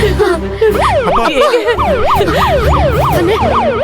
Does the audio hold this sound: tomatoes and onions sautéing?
no